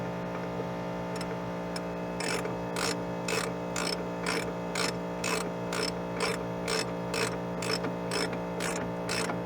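A ratchet tightens a new wheel cylinder on the rear drum brakes of a 1997 Chevy Blazer. Evenly spaced, crisp clicking bursts repeat about every half second over a steady background hum.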